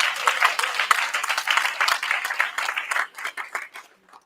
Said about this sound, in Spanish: Denle ese aplauso al Señor.